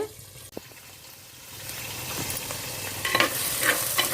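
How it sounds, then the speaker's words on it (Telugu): Onion masala paste frying in a pan for a fish curry, a steady close sizzle that builds louder after the first second or so, with occasional scraping stir strokes and no talk. "ఇది ఉట్టి మసాలా ఉల్లిపాయ ముద్ద ఇది బాగా వేగాలి"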